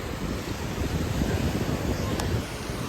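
Waves wash steadily below the clifftop rocks at San Rafael Beach in the Algarve, Portugal, a continuous broadband surf roar mixed with heavy wind buffeting the microphone.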